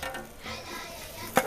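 A spoon stirs fried potatoes, peppers, ginger and garlic in a pot for Bahraini chicken, a short soft sizzle and scrape ending in a sharp clink.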